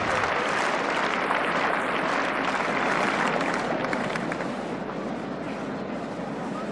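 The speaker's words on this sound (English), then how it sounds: "Be tremendous applause for them." A packed Wimbledon crowd at a 1977 men's singles semi-final between Borg and Gerulaitis gives sustained, dense applause that fills the whole clip and thins slightly toward the end.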